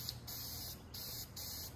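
Three short bursts of flat black spray paint from an aerosol can, each a sharp, steady hiss separated by brief pauses, close and clear with no talking.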